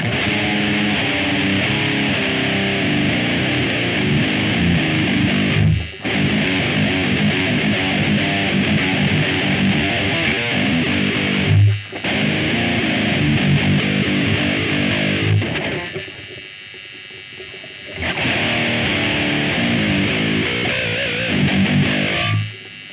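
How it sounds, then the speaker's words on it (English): A heavily distorted electric guitar through a Line 6 POD 2.0 with the gain pushed up plays loud, saturated riffs in several bursts, with steady hiss audible in the brief gaps between phrases. "Let's push the gain up, which gives us a lot more hiss"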